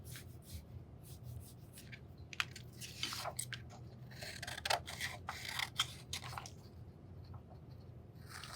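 Scissors snip through paper while a mug pattern is cut out, giving a quiet, close series of uneven crisp cuts and rustles with no talking.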